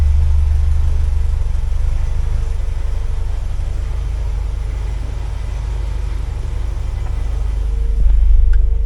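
A 1979 Porsche 924 with fuel system trouble idles, heard from inside the car as a steady low rumble that stays constant and swells slightly near the end, no talking.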